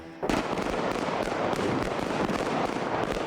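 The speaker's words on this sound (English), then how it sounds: "the big gun shootout that you hear in the movie is all production sound" Sustained automatic gunfire from the big street shootout in the 1995 film Heat, recorded as live production sound with about 1,000 rounds per take; a dense, continuous, loud crackle of overlapping shots bursts in after a brief quiet start.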